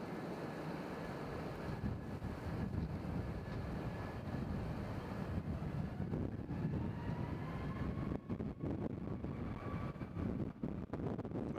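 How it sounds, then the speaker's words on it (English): Wind gusts and rumbles continuously against the microphone at a planespotting spot at Nashville International Airport, with a faint aircraft whine in the distance and no talking. "As the wind is pounding us in the back."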